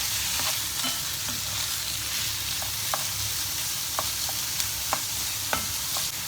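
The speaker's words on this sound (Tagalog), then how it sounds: "Igisa na natin siya. Hanggang magkulay white siya." Chicken breast strips sautéing in a pan over medium heat, a steady close sizzle and fry with scattered light pops and occasional stirring clicks, no voices.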